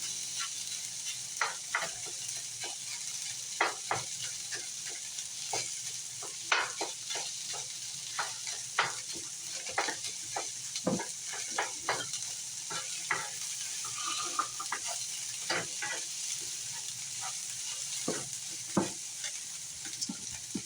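Eggs fry and get stirred in a pan for fried rice, a steady sizzle under repeated scraping strokes of a utensil, close and alone with no talk.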